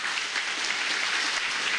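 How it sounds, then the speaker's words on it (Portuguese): A church congregation applauds during a Portuguese-language worship service, a short, dense burst of clapping from a large crowd that fills the room. "Aplauda bem forte ao Senhor Jesus."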